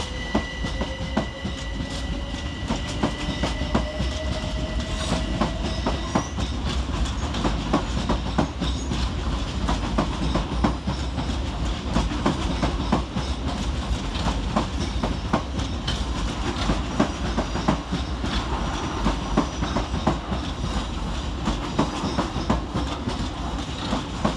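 A triple-unit Class 387 Gatwick Express electric train pulls away from Brighton station on the main line toward London Victoria, a steady rumble with rhythmic wheel clatter and a faint tonal whine, sustained and fairly close throughout.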